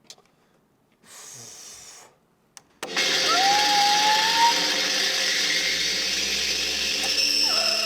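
An unusual grinder disc sits inside a safety box on a variable-speed grinder, set to speed 2. After a few brief starts it spins up to high speed, a loud, close, sustained whine with a rising pitch.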